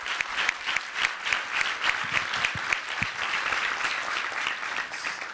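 An audience at a talk gives a sustained round of applause, dense overlapping clapping that stays loud and full for about five seconds.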